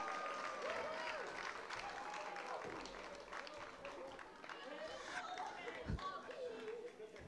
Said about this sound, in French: On les applaudit bien fort encore une fois.